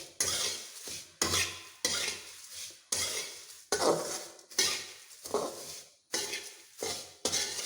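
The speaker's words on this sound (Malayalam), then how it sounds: "ആ ചൂടോടുകൂടി തന്നെ ഇട്ട് ഇളക്കിയെടുക്കാം." A spoon or spatula stirs roasted beaten rice (aval) with sugar and cardamom powder in a pan. About a dozen rhythmic scraping strokes come up close, each separated by short pauses.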